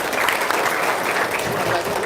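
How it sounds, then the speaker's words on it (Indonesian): Brief round of audience clapping at an Indonesian religious gathering, a dense patter of many hands for about two seconds with voices mixed faintly underneath. "tepuk tangan dong"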